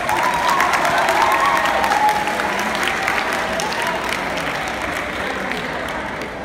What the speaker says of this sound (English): give applause for Benedict Kaai